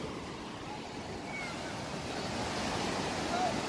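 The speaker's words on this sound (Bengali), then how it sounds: "সাগরের গর্জন শোনা যাচ্ছে হয়তো" Steady roar of ocean surf on Saint Martin Island, Bangladesh, with wind rushing across the microphone, continuous and fairly loud throughout.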